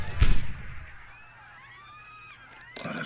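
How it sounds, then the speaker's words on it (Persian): A single loud, close gunshot bursts at the start of a recording, a sharp booming crack that quickly fades into quiet, with a voice and faint tones following. "آره راست میگی، صدای شلیک دیگه است."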